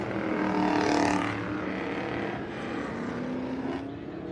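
Race cars at a racing event roar past in a loud, continuous wash of engine noise, with a pitch sweep as one car passes close and more engines droning behind it.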